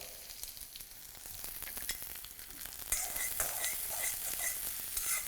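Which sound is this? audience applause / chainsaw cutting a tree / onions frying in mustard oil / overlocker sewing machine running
onions frying in mustard oil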